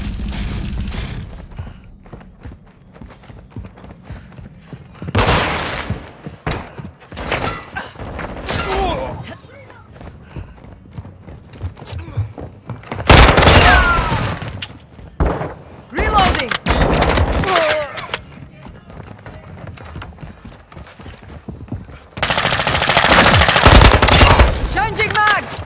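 Bursts of automatic rifle fire and heavier booms in Call of Duty: Modern Warfare II, coming in several loud volleys separated by short gaps, with radio-style voices talking between and over the shots.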